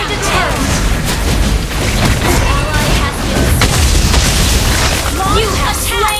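A turret exploding in a video game: loud, dense booming and crackling blasts under continuous game effects, with voices over the din.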